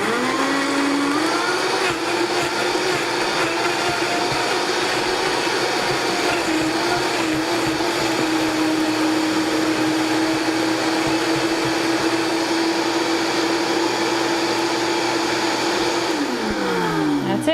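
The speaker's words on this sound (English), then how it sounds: "So I'm going to use the Vitamix with the tamper. And start on low, work your way up to high." A Vitamix blender fitted with its tamper runs continuously, its motor whine climbing from low to high speed and holding a loud steady roar before winding down at the end.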